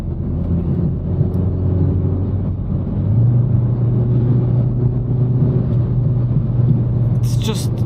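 A Renault Megane RS 300 driving on smooth mountain roads in Wales, its engine a steady low drone with tyre rumble that deepens midway, while a person talks over it.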